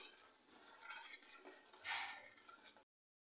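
A spoon stirs and scrapes a thickening Sultan Lokumu Turkish roll dessert mixture in a pan, with soft, faint, steady clinks and swishes and one brief louder scrape near the end.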